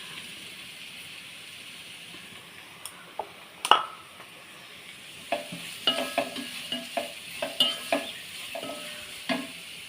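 Curry leaves and salt fry in hot oil in a pan as a spoon stirs them, giving a soft steady sizzle under repeated sharp clicks and scrapes of the utensil against the pan, close by with no talking.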